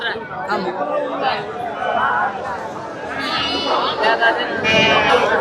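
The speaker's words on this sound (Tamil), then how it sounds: "செம்மறி ஆடு" Sheep bleating amid a busy livestock market in Ranipettai, with wavering calls rising over steady crowd chatter and people talking nearby.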